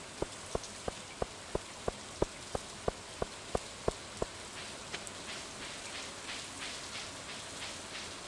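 Rain in Stardew Valley patters steadily and softly, under a run of evenly spaced, sharp clicking taps that stop midway.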